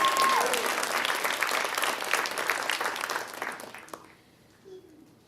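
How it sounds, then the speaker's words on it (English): Audience applause at a college honor society induction ceremony, a dense, steady round of clapping from a crowd that fades out near the end, followed by near silence. "let's give one more round of applause for Shreya and her Nicki Minaj dance"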